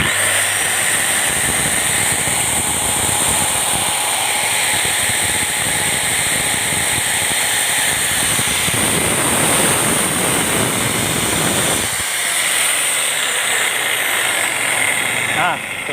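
A 7-inch DeWalt angle grinder on a test run whines and grinds continuously at high pitch, steady and loud, with a brief surge in intensity near the middle.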